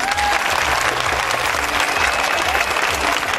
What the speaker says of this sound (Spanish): Aplausos para el equipo número uno.